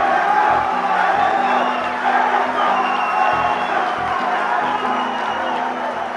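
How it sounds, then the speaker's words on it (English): A crowd claps and cheers steadily throughout at a political rally in El Salvador, greeting a presidential candidacy announcement with a dense, continuous wash of applause and a few whoops. "The audience claps"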